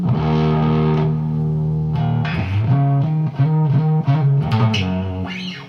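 An electric guitar through a thick, fuzzy germanium fuzz distortion plays sustained chords and bending notes, loud and up close, with no talking.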